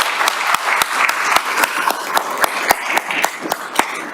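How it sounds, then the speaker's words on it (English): Applause at a chamber of commerce economic development event, an audience clapping steadily with a few sharp, distinct nearby claps standing out in a rhythmic pattern. "Let's please give him a round of applause."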